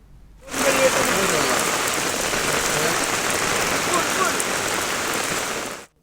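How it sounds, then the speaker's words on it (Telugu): Heavy rain from a deepening low-pressure system over Andhra Pradesh pours steadily in a dense, even hiss that starts abruptly and holds at a constant loud level before cutting off. "ఏపీ వ్యాప్తంగా విస్తారంగా వర్షాలు పడుతున్నాయి"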